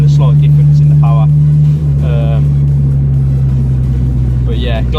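A Honda Civic EP3 Type R fitted with a DC Sports 4-2-1 manifold drones with a steady, loud, deep engine note, while someone talks in short bursts over it.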